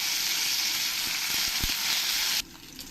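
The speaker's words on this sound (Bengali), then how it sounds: "এবার আমি হাফ চামচ সর্ষে দিয়ে দেবো দুটো শুকনো লঙ্কা দিয়ে দেবো একটু কারি পাতা দেবো" Mustard seeds, dry red chillies and curry leaves hitting hot oil in a pan: a loud, dense, crackling sizzle that holds steady and then drops sharply to a softer frying hiss near the end, with no voices.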